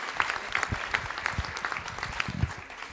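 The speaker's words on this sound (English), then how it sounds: "We want to make sure we clap and thank you for your support of Charger tennis." A room of people at a school board meeting claps for Chargers tennis team supporters, steady dense applause holding evenly for a few seconds.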